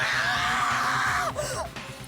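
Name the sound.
scream in video game Danganronpa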